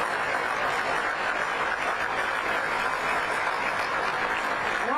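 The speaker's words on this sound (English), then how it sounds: "You can clap for that" Crowd applause at the 2024 Libertarian Convention during a Donald Trump speech, a broad even wash of clapping that stays constant and moderately loud throughout, with no voices on top.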